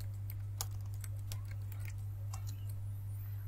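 Keys tapped on a computer keyboard in a series of light, irregular clicks, typing in a network address value on a Windows PC, over a steady low electrical hum with no talking.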